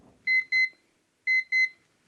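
Two pairs of sharp electronic beeps from a chess game timer, each pair quick and bright, the second pair following after a short pause; nothing else sounds.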